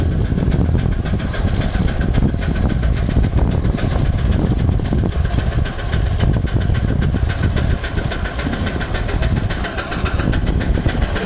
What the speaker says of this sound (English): That sound that you hear is a gentle chugging, but relatively quiet compared to a gasoline or diesel engine.